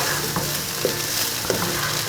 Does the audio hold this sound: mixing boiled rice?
yes